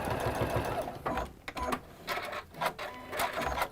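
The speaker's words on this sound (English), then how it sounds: "all you need to do is stitch across it" A sewing machine stitches across fabric lying flat, its motor whirring close and loud in several short runs separated by brief pauses, with no talk.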